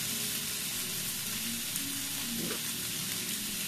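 Chicken afritada sizzling in a pan as chicken broth cubes melt in, with a continuous frying crackle and a few soft stirring scrapes, no talking.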